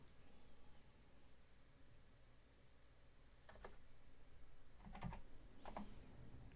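Quiet typing on a computer keyboard, a few scattered key clicks followed by a short burst of taps near the end, faint over a low background hiss.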